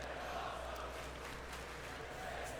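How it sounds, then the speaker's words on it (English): Simulated arena crowd in the wrestling video game WWE 2K23 roars and cheers steadily throughout a match, a dense, continuous wash of crowd noise held at a fairly even level. "And this crowd absolutely eating this up."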